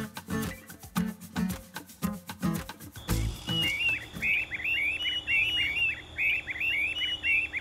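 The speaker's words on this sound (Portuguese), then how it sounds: "Olha que legal essas tesouras do brejo." Streamer-tailed tyrants sing at dawn beside a rural road in southern Mato Grosso do Sul, Brazil, giving a steady series of repeated chirping calls after a few opening thumps, fairly close and clear over a continuous background hum.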